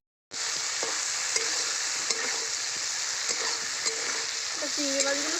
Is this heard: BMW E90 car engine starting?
no